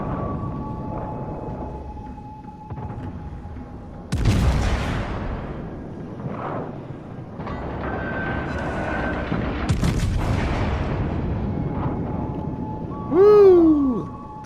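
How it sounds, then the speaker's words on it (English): Naval gunfire from warships in World of Warships: Legends, including the USS Arkansas, with deep booming salvos and explosions rolling in at intervals over a continuous engine drone and game tones, a louder blast near the end. "considering there are two ships firing at me"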